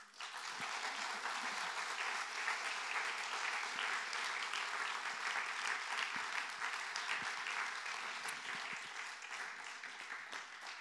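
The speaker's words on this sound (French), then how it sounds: "Sous vos applaudissements." An audience applauds at an art exhibition opening as a glassblower is invited up, a dense, continuous clapping from a room full of people, steady and close, easing slightly near the end.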